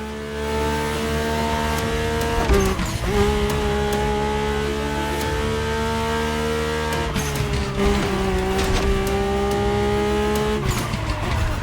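A Mercedes-AMG One hypercar races in The Crew Motorfest, its engine droning loud and close without pause, with pitch dips at gear shifts and brief tire scrubs, and no voices.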